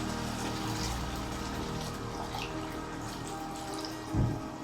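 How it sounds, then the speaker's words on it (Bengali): Water trickles into a pan of ground tomatoes for a dhaba-style chicken curry, a steady low pour running throughout with a brief heavier splash near the end. "এর মধ্যে সামান্য একটু জল দেবো এখন"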